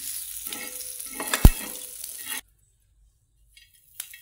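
An ingredient roasting in oil in a pan for a black-masala amti, giving a steady close sizzle with stirring and one sharp utensil knock, then cutting to near silence with a brief clink.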